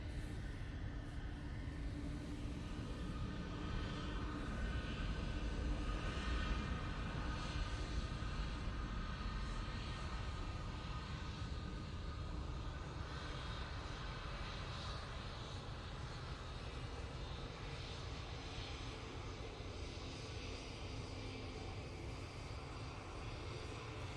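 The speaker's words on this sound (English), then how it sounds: "What a beautiful departure that was" At Manchester Airport an airplane departs and climbs, its engines a sustained broad roar with low rumble that holds steady, heard at a distance with no voices.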